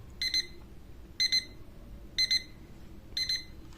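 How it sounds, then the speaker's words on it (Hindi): An LED clock's alarm rings in four evenly spaced bursts, each a quick double beep with a bright electronic tone, clear and close above a faint background hum. "अलार्म प्ले हो रहा है।"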